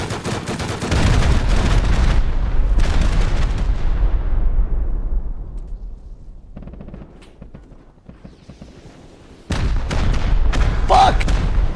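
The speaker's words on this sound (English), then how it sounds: "Yeah, rockets." Rocket explosions in a zombie shooter game, heavy booming blasts with rumbling decay, a burst at the start and another loud one near the end, with gunfire-like crackle between.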